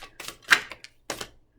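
Short snapping riffles and clicks of a deck of playing cards being shuffled by hand, a few quick bursts with gaps between them, close and dry with no voice.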